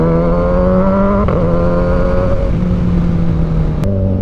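A 2023 Kawasaki Ninja 1000X engine revs close by, with a strong steady drone that steps up and down in pitch between throttle blips, loud and alone.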